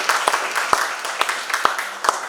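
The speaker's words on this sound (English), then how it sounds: "Go give Jason a round of applause." An audience applauds a volunteer named Jason at a gathering, with steady broadband clapping and a few sharper individual claps standing out in an uneven rhythm.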